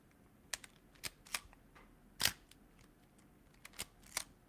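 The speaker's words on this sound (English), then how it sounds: "can you pull that shutter next to the microphone?" A Nikon F film camera's shutter fires close to the microphone, giving a series of about seven or eight sharp, dry mechanical clicks spaced unevenly over a few seconds against a quiet room.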